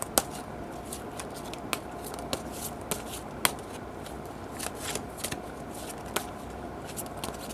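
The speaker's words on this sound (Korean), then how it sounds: "4번 분들을 위한 조언 카드 한 장 뽑아보겠습니다" Tarot cards are shuffled and drawn from the deck: a soft, steady stream of papery riffling broken by sharp flicks and snaps at irregular intervals, quiet and close.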